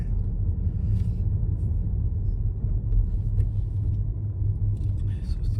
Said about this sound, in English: Driving through Weeton.